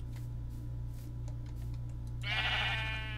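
Minecraft sheep bleats from about 2.2 seconds onward in Crundee Craft, a wavering, buzzy cry over steady low game hum with no talk.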